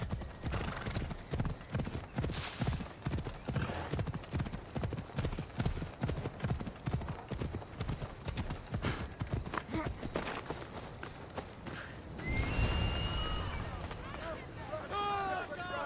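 Rapid hoof clip-clop in the video game Assassin's Creed Odyssey: Fate of Atlantis runs steadily for most of the clip, with a horse whinny rising near the end; faint background voices murmur underneath.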